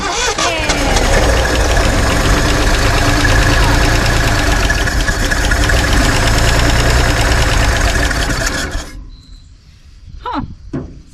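An old Ford Bronco engine idles steadily and loud up close after its first start in over 30 years, a dense mechanical rumble that cuts off abruptly near the end, leaving brief faint sounds.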